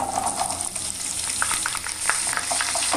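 Garlic and cut potato pieces fry and get stirred in a pan, a continuous loud sizzle with scattered scraping strokes of a spatula, close up and alone.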